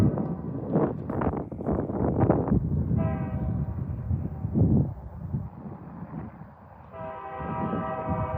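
A BNSF freight train rumbles steadily nearby in Garretson, South Dakota, while its horn sounds in two sustained blasts, one partway through and another near the end.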